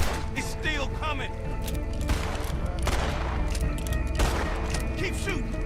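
Rapid pistol gunfire in the video game Red Dead Redemption 2 fires as a close volley of sharp shots mixed with other game noise, with voices talking over it.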